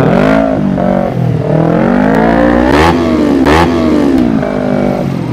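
Motorcycle engine revved hard in rev bombs on a street beside a public minibus, a loud, continuous roar with rising and falling pitch sweeps and sharp bursts, close up.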